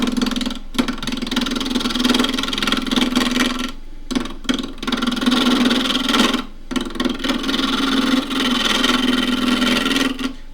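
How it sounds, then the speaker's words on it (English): Wood lathe spinning a box elder burl blank while a 1/2 inch spindle gouge roughs it down, a loud, rumbling, chattering cut broken by several short pauses as the tool lifts off. "roughing down with a 1/2 inch spindle gouge"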